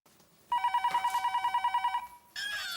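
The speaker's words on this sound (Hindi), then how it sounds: "इतनी रात को किसका फोन आया होगा?" A telephone rings late at night in a home, a loud, close electronic bell trilling in rapid repeated pulses for about a second and a half, then stopping, followed by a brief burst of other noise.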